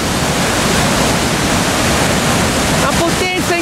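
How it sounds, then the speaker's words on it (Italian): A powerful waterfall in Namibia roars right at the mouth of the cascade, a dense, loud, unbroken rush of water heard up close, with a voice breaking in briefly near the end. "Siamo proprio sulla bocca della cascata!"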